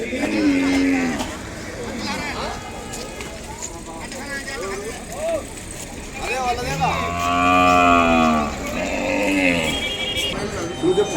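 Calves and cows lowing at a busy cattle market, with several drawn-out moos rising over a crowd of voices and general bustle.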